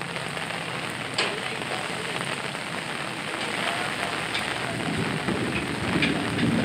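Rain falls on the Mumbai–Ahmedabad highway near Vasai, where the road has sunk, making a steady, moderate patter and wash that swells slightly toward the end, with a few faint knocks.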